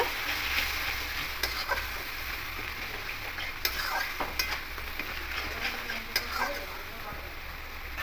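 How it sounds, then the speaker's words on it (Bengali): Banana flower curry sautés in a pan with a little water, a steady soft sizzle running throughout, broken by occasional clicks and scrapes of stirring against the metal. "সামান্য জল দিয়ে খুব ভালো করে একটু কষিয়ে নেব।"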